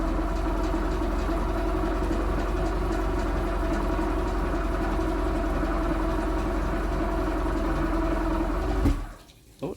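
A 1992 Mercury Black Max outboard engine cranks steadily on both batteries, a loud continuous droning churn that runs for about nine seconds before cutting off abruptly.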